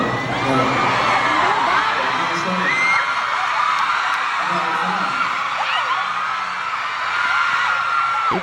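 A concert crowd at a show screams and whoops continuously, a dense, loud wall of excited shrieks and yells that surges and dips slightly throughout, with scattered individual cheers rising above the mass.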